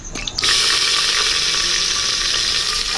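Chopped onion, ginger, garlic and green chilli hit hot oil with a sudden loud sizzle that settles into steady crackling frying, with some stirring.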